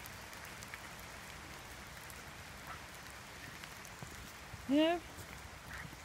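Steady rain falls on a wet woodland, a soft, even hiss and patter that stays quiet and constant throughout, with one brief spoken word near the end.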